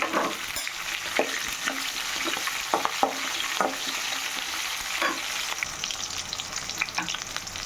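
Green chillies, ginger and garlic fry in a pan for a peanut tomato chutney, giving a soft steady sizzle with scattered stirring scrapes and taps, close by and without talk.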